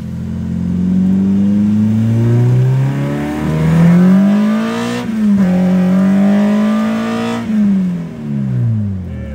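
A K24 engine in an Acura Integra revs hard as the car accelerates, its loud rising and falling tone sweeping up through the gears with brief dips at each shift.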